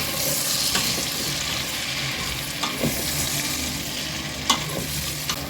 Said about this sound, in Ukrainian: смажу на середньому вогні приблизно до 5 хвилин, періодично перемішую